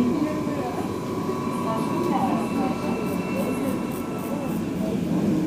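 A steady low rumble and rushing roar of an Istanbul metro train in motion, continuous and fairly loud, with a faint high whine above it.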